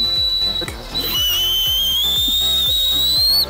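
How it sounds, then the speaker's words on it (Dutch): A person whistles a long, steady high note that wavers slightly in pitch, outdoors in the Ardennes during a bootcamp challenge, over a soft rhythmic tapping beneath. "Aaron, hoe fluit jij?"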